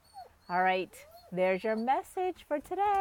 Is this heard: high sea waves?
no